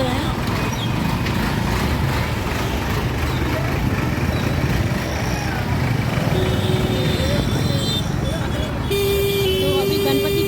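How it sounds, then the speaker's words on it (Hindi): Mumbai street traffic during the Ganpati festival forms a dense, constant roar of engines and road noise. Short car horn toots break through near the end, and voices sit under the traffic. "तो आपको ये ओरिजिनल आवाज़ सुना रही हूँ मैं ट्रैफिक के बीच में से।"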